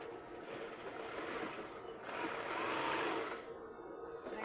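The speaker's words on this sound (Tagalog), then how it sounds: "I-overlock na lang po dito by side para maging punda na siya." An overlock sewing machine stitching along the side seam of a pillow case, a continuous close whirring hum that swells and dips slightly over a few seconds with no talking.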